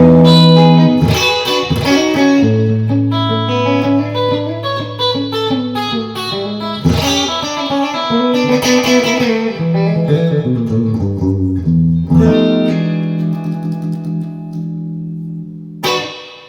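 An electric guitar, a Gibson Les Paul Traditional Pro with Burstbucker pickups, plays a loud, overdriven passage of sustained chords and melodic lines with no talking, ringing out and fading toward the end.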